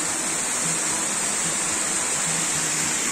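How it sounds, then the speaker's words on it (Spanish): Waterfall in Ecuador, a steady, close, full roar of rushing water with no breaks and no voices. "conseguimos dos cascadas"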